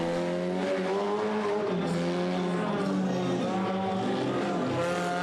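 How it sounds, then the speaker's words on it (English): Mini monster trucks racing at a monster truck show in Tremonton, Utah, with loud, sustained engine whine and shifting revs roaring close throughout, a steady mechanical drone with rising and falling pitch. "The mini monsters come out for racing"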